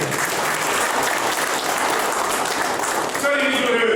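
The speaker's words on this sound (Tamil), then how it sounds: "மிகப்பெரிய கைத்தட்டலை பரிசாக" Audience applause at a Rotary Club of Karur 70th-year platinum jubilee celebration, loud, dense and continuous across the whole stretch, with the clapping carrying on steadily as a few tonal sounds rise near the end.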